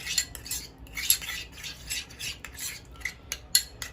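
Spoon clinking and scraping in a bowl while mixing mayonnaise with pizza topping, a series of quick light metallic taps and stirs at close range with no talk.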